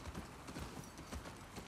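Horse hooves clip-clop on the ground in the video game The Last of Us Part II, a quiet steady walking rhythm of hoof strikes under a faint background bed, with no talk.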